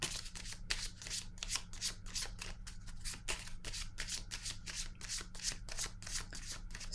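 Tarot cards shuffled by hand, a rapid run of crisp riffling and sliding flutters repeating continuously, close and clear with no talk.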